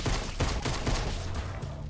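Rapid TAC SMG fire in a Fortnite zombie rooftop run: dense, continuous bursts of close, loud shots hammering for the whole stretch, with faint game noise underneath.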